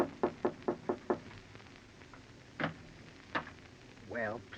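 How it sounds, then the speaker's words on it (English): Knocking on a door as a 1940s radio drama sound effect: five quick, evenly spaced raps, followed by a couple of isolated thumps and a short voice sound near the end. "you go upstairs and knock on the door"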